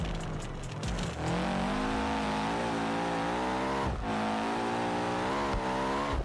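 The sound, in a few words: car engine revving in BeamNG video game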